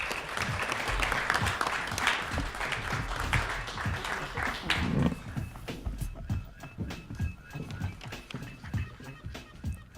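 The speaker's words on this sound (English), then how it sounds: "Please, can we have a round of applause for our panelists?" An audience at a university Black History Month unity forum applauds their panelists, with dense clapping that thins into scattered claps partway through. The clapping sounds moderately loud and distant.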